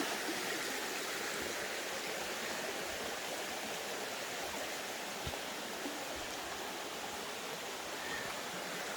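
A small forest stream pours over rocks piled to dam the water, giving a steady, even rush and gurgle that stays close and unbroken throughout, with no voices.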